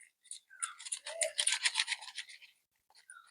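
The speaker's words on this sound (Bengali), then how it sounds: "2 মিনিট খুব ভালোভাবে হাতের সাহায্যে ফেটিয়ে নেব।" Gram flour (besan) batter whisked briskly by hand in a bowl, a close, rapid run of wet scraping strokes that builds and then stops, followed by a few faint taps.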